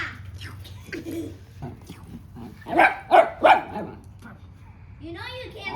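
A dog gives three quick, loud barks close by, set against a busy household background with voices talking before and after.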